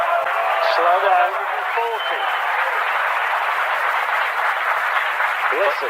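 A snooker crowd at the Crucible applauds during a maximum break, a steady, moderate wash of clapping heard beneath a commentator's voice that speaks over it at the start and end.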